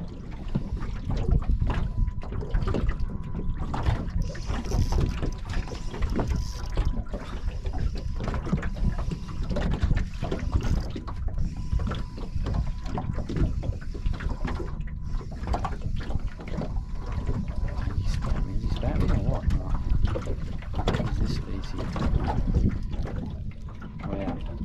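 A fishing boat crosses choppy water on Lake Macquarie, giving a steady, loud churning rumble with constant wind buffeting the microphone for the whole stretch.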